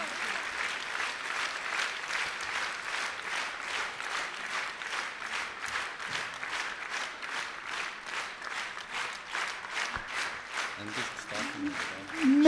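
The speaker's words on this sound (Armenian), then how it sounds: "խնդրեի ծափահարել և ողջունել նրան" A concert-hall audience in Gyumri claps steadily for a songwriter present in the hall, a dense, even patter of many hands sustained throughout, ending with a voice at the close.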